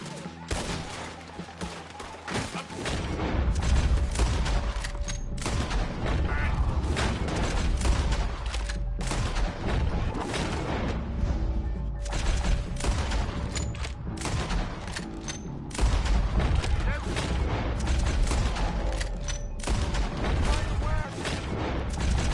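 Sustained gunfire in Red Dead Redemption 2 during a wagon-pushing shootout, dense rapid shots and booms continuing for over twenty seconds, with voices shouting underneath.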